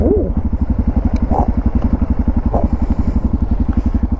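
A Kawasaki Z1000SX motorcycle engine drones loudly and close with a rapid, steady firing pulse during an overtake on the road, the low rumble holding strong throughout with brief higher blips over it.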